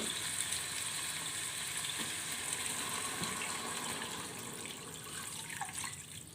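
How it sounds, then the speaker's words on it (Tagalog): Broth poured into a pot of sinigang with bidbid fish head, a steady close watery gush with faint sizzling underneath, continuous and fairly even for the whole stretch with no talking. "Guys, ito, lagyan ko na ng sabaw."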